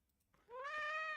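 One drawn-out cat idle meow sound effect for a game, starting after a brief pause and holding a steady, clear tone to the end, heard alone.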